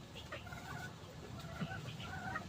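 Hen giving soft, intermittent clucks and murmurs, faint and fairly distant against a quiet background.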